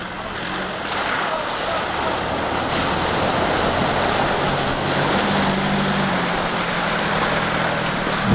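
A 4x4 wading through a river on a muddy Nigerian track in the rainy season, a steady loud rush of churning water and wind buffeting the microphone, with faint voices underneath.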